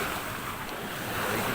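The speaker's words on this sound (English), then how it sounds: "So you can see there's one of those big old waves coming from the south." Big ocean waves from the south during a sailing passage toward Richards Bay, a continuous loud rushing wash of surf mixed with wind noise, close and steady with no talk.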